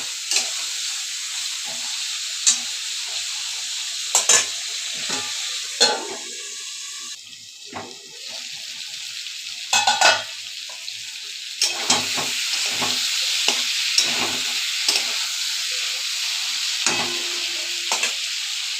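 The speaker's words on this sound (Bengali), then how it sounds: "একটু মশলা জল দিয়ে দিলাম। একটু ভালো করে কষিয়ে নেব" Spice paste thinned with a splash of water frying in a pan for a fish curry, a loud hissing sizzle broken by repeated sharp scraping stirs, close up and without speech.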